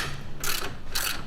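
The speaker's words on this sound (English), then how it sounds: "Oh, impact gun." An impact gun removes long brake caliper bolts, giving two short, sharp hammering bursts up close, each about a fifth of a second long.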